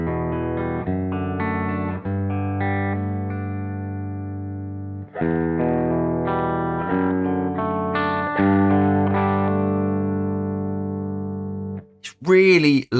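Electric guitar with a Cream T pickup switched to its full humbucker setting, giving a low-mid heavy, slightly wah-like tone; a series of distorted chords and notes ring out loudly and sustain, with a brief voice at the very end.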